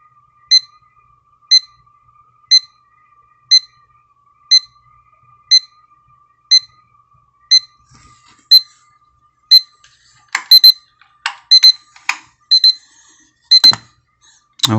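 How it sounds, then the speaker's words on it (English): A La Crosse wireless charging alarm clock rings with evenly spaced electronic beeps about once a second, clear and close, then breaks into faster, irregular clicks and button presses near the end. "Okay, snooze. So it snoozed back to 5 minutes."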